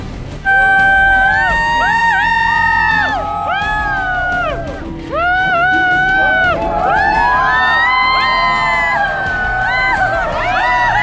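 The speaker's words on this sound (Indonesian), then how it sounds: "Oke, sekali lagi tepuk tangan untuk malam hari ini untuk Chico dan juga Putri." At an evening wedding celebration, a crowd cheers loudly with whoops and shouts, and over it a bright melodic instrument plays in sweeping phrases, filling the clip continuously from near the start to the end.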